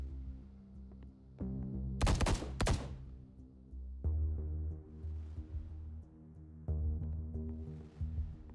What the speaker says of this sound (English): Did I just hear gunshots?